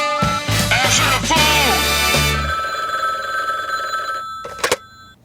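A telephone bell rings loudly through the first couple of seconds amid other game or show sounds, then a sustained electronic tone lingers and a pair of short sharp clicks land near the end; no talk is heard.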